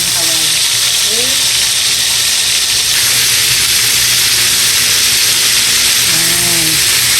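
Pork steak frying in a pan, a loud, steady sizzle that holds for the whole stretch, close up, with faint voices and tonal sounds underneath.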